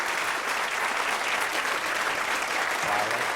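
A studio audience on a quiz show claps loudly and steadily, a dense even wash of applause close by, lasting the full few seconds with a voice faintly underneath near the end.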